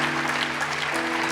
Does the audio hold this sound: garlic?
no